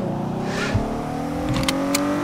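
Jeep engine droning steadily while driving on a highway in GTA 5, a close, sustained hum with slight pitch shifts and a few brief higher tones layered on top, no talking.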